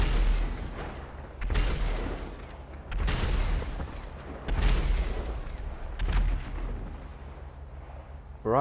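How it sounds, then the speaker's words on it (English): Missile launches from the Declasse Scramjet in Grand Theft Auto 5: five loud, booming bursts about every one and a half seconds, each with a rumbling tail, over a steady low hum. "how long that took to fire those missiles off"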